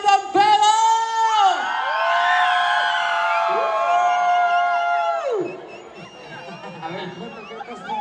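Concert crowd at a live show in Watsonville, California, shouting and whooping loudly together for several seconds, then fading into scattered cheers and chatter.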